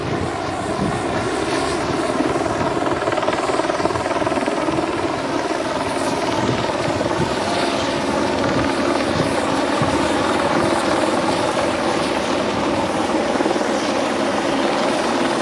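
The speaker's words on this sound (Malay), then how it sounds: "Dan kelihatan helikopter polis juga beredar di kawasan ini." Police helicopter circling over a forest area during a search for escaped prisoners, a loud, steady, throbbing rotor and engine roar that continues without a break, heard alone.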